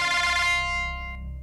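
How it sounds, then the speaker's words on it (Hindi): A phone rings with a short electronic tone whose bright, steady notes sound briefly and then fade out, in a quiet indoor home setting with no talking. "फोन आ गया"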